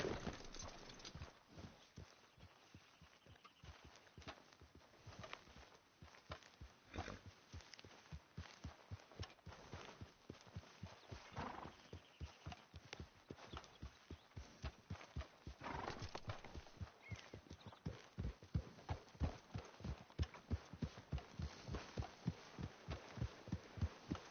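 Horse hooves clip-clop steadily in Red Dead Redemption 2, a long run of rhythmic, close footfalls that gather pace and grow louder toward the end, with an occasional snort or whinny.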